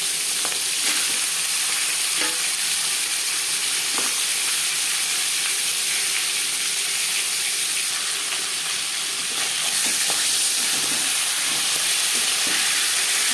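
Catla fish heads frying in hot refined oil, a steady loud sizzle and crackle with spitting pops throughout and no voices.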